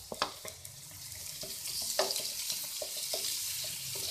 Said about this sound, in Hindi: फ्राई करेंगे इसे भी